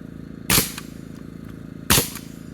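Two sharp, loud pneumatic cracks from a nail gun driving plastic-collated nails into a barn post, spaced about a second and a half apart over a steady background hum, with no voices.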